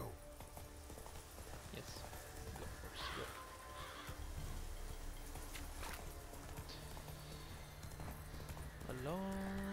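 In The Witcher 3 video game, a horse's hooves clip-clop steadily under a constant game soundtrack, with a whinny in the mix and a brief spoken word.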